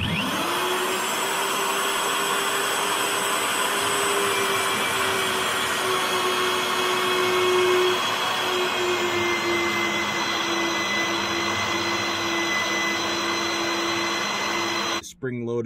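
A drill bores through the steel plate of a truck frame extension for a tandem trailer hitch, giving a loud, continuous motor whine and grinding that rises slightly in pitch, then stops abruptly at the end.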